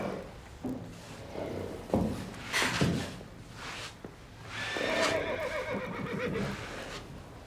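A horse whinnies loudly and shakily near the end, after some thumps and shuffling movement nearby.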